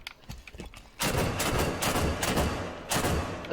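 Broken SMG gunfire in Halo 5 comes through as a dense, continuous rattling burst after a quiet start, loud and sustained with a brief dip and a renewed surge near the end.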